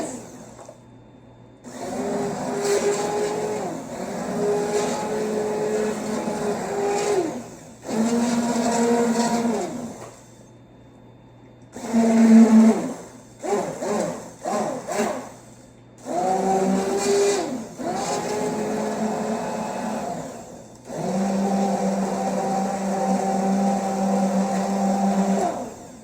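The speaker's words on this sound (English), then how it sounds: "what you're basically going to do is blend this" A blender purees tomato soup in several loud, droning bursts separated by short pauses, including a quick run of stop-start pulses midway, with no talking.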